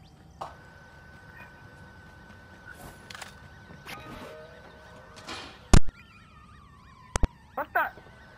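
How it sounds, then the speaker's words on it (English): A wailing alarm siren in the video game Watch Dogs 2 rises and sweeps in the second half, with loud gunshot-like cracks and game effects around it and people talking over the scene. "Yo, shut that alarm up."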